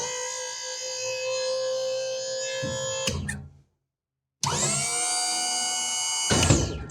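The hydraulic pump motor on a BigTex dump trailer, running again after a motor solenoid replacement, drones with a loud electric whine. It cuts off abruptly, falls silent for about a second, then starts again with a sharp rising whir and runs steadily until stopping.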